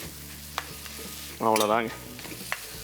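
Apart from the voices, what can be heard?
scraping and stirring bitter gourd masala in hot kadai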